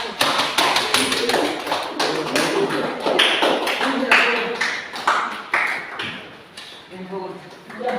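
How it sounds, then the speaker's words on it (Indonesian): A classroom full of people claps steadily for a group presentation, a dense patter of applause that holds for several seconds before tapering off. "Beri tepuk tangan dari untuk kelompok 1"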